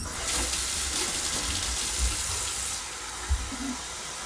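Well water runs from a tap into a blender for a smoothie, a steady loud rush and splash with a couple of brief knocks near the end.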